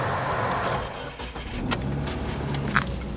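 A Subaru car drives along, its engine and road noise a steady low rumble close by, with a few light clicks and rattles inside the cabin.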